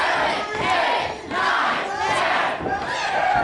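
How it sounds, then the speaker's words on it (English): A wrestling crowd at a live indoor show chants loudly in unison, counting along with a series of punches. The rhythmic shouted beats arrive about once per second and echo through the venue. "as the crowd counts along"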